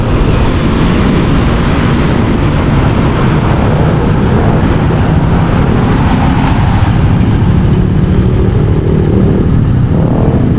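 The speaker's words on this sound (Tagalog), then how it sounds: "may tumutunog sa motor" A motorcycle engine runs continuously and loudly up close, its dense rough drone carrying an odd rattling noise, with no voices over it.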